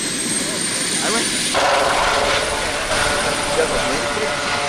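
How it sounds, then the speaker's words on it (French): A helicopter flies over a paragliding event, its broad engine and rotor roar steady and fairly loud throughout, with people talking underneath. "Et là, je vais en faire rejoindre l'hélico."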